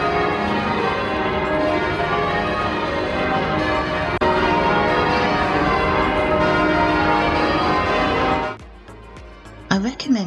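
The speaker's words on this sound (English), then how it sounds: "Those bells are glorious." Dense, loud pealing of London church bells fills the air continuously, then cuts off abruptly near the end, leaving a brief quieter moment with faint clatter.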